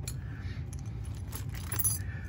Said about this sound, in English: The keys are here somewhere.